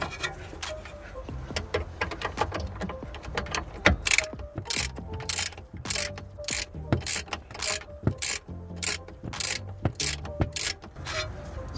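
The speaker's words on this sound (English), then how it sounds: "You need the 16 mil and the T30 Torx bit in order to get this back in place." A ratchet fitted with a 16 mm socket and a T30 Torx bit works on a sway bar link during a coilover install on a BMW E60, giving a close, steady run of rapid clicking strokes with brief pauses, with no talking.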